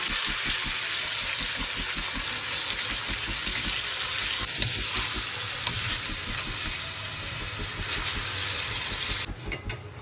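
Hot oil sizzling in a karahi as karahi gosht is cooked, a steady, loud frying hiss with a low rhythmic bubbling underneath that runs for the full ten seconds and fades slightly at the end, with no talking.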